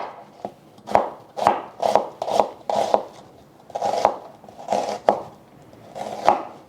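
A knife slices an onion from top to bottom on a cutting board, about a dozen crisp, close chops in an uneven rhythm, each a sharp tap against the board with no talking.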